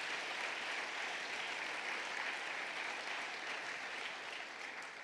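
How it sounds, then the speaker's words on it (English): A crowd at a speech event applauds in a steady, distant wash of clapping that holds evenly for several seconds and eases slightly toward the end, no individual claps standing out. "Please give them a warm round of applause"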